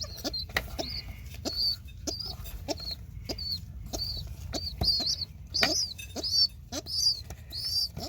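Older baby pigeons in a loft make repeated shrill squeaks, close and fairly regular, over a low background hum.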